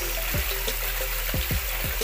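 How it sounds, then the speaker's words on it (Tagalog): Water pours steadily from a man-made waterfall into a backyard pond, a close continuous splashing hiss with low gurgles and drips rising through it. "Hihina siya pag in-adjust natin yung tubig."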